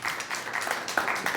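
An audience claps in a brief burst of applause for a woman named Diana, quick uneven hand claps at moderate loudness with no voices over it.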